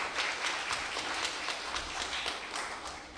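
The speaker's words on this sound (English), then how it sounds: "yes, feel free to applaud." Audience applause during a live radio news broadcast, steady clapping of moderate loudness that holds for about three seconds without speech.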